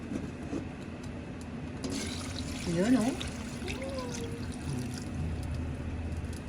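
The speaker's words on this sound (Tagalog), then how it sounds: "Yan, so lalagay na natin mga boss ang ating gata." Coconut milk is poured into a pot of boiled nipa palm heart, a soft continuous trickle close by, with a voice speaking briefly over it.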